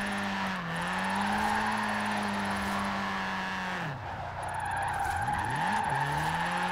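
A small, underpowered pocket-rocket car drifts sideways in Forza Horizon 4, its engine droning at a steady low pitch and climbing slowly, dipping twice as revs drop and recover, with tire squeal layered over the continuous loud engine note.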